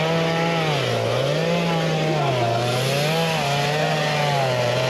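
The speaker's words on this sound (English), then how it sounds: "There's a guy with one leg and a chainsaw." A chainsaw cuts through fallen trees blocking the coastal highway after Hurricane Melissa, its engine whining loud and close, rising and falling steadily as it bites into the wood, heard with no talk.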